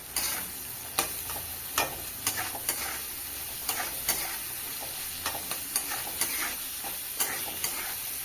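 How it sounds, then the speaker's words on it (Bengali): Continuous sizzle of chopped onions frying in oil broken by repeated sharp scrapes of a spatula stirring, roughly once a second, close by. "আলু ভাজার তেলের মধ্যে পেঁয়াজ কুচি দিয়ে দেবো।"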